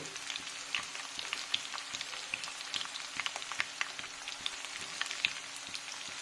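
Thinly sliced onion and a little garlic frying in hot ghee with dried red chillies, a steady, quiet crackling sizzle full of small pops, close and continuous with no talk.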